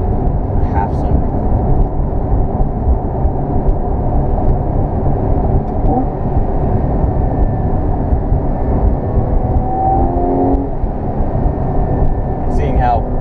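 A 2014 Porsche 911 Carrera with a Tiptronic gearbox driving, its engine a loud, steady, low drone under continuous cabin talk, with brief pitch changes hinting at quick gear shifts.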